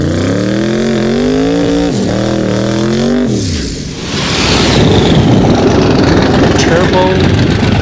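A turbo Mustang launches on a drag strip, engine holding a rising whine before a sharp gear break, then a loud broadband roar and rush of the car pulling away.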